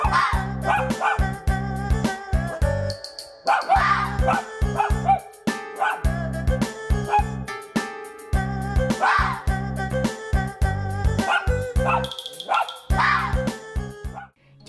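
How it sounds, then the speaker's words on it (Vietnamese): A pet fox kept with dogs tries to bark like a dog, giving repeated sharp, yelping barks and whines in bursts, near and loud, with brief pauses between calls and music running underneath. "Tất nhiên là vì là cáo nên nó không thể sủa giống hệt tiếng chó được"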